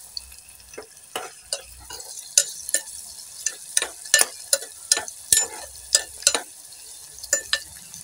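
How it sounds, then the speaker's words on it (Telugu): Onions, green chillies, curry leaves and mutton keema frying in oil for a keema curry, with a steady soft sizzle under a run of sharp, close stirring and scraping clicks from the pan, no talking. "ఉల్లిపాయలు వేసుకున్నామండి పచ్చిమిరపకాయలు ఉల్లిపాయలు కరివేపాకు నూనెలో మగ్గుతుంది"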